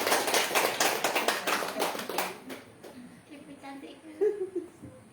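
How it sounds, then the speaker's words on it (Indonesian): Applause at a business gathering, a burst of clapping that fades after a couple of seconds, with faint voices and a few soft sounds afterward. "Tepuk tangan yang meriah Bapak Ibu."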